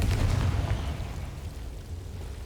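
A fire spell explosion in the video game Hogwarts Legacy, a loud low booming burst at the start that rumbles and slowly fades over a couple of seconds, with no voices.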